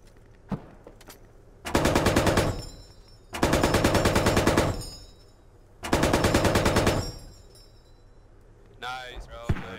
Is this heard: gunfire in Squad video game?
yes